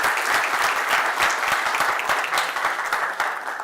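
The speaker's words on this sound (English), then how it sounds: "I think they deserve another round of applause." Conference keynote audience applauding steadily, a dense, loud wash of many hands clapping that continues throughout with no voices over it.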